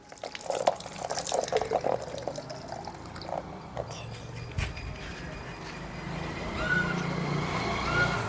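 Water poured from a container onto a houseplant in home gardening, splashing and trickling near the microphone, with a few drips and small knocks before a softer steady flow.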